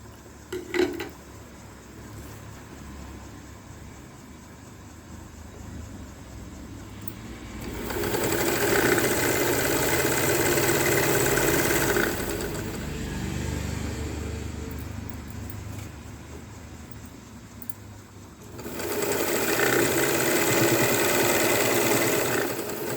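Sewing machine stitching a fall onto a bordered saree, running in steady rapid bursts that speed up and slow down, loud and close with no talk.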